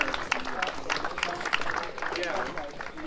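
An outdoor crowd claps in a scattered way for the top three finishers on the podium of the 2020 ARA Sno*Drift rally. Talking and crowd chatter mix in with the applause throughout.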